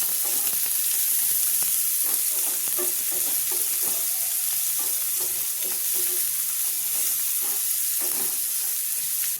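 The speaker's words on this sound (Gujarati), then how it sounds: "ડુંગળીને આપણે બરાબર સાતળી લેવાની છે" Chopped onions sautéing in hot oil with spluttered cumin seeds, a steady close sizzle with frequent spoon-stirring scrapes throughout, no voices.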